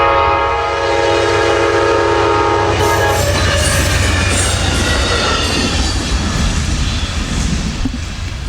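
A heavy freight train with an auto rack rumbles past at close range, a sustained horn blaring for the first few seconds before giving way to steady rolling clatter of wheels on rails.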